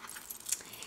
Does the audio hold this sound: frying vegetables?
no